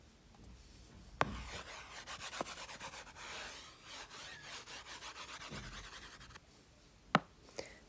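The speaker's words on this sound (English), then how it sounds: "I'm going to go ahead and erase this." An eraser rubbed back and forth across a classroom board to clear written math work, a close, steady scratchy rasp lasting several seconds, with a couple of sharp taps at the start and end.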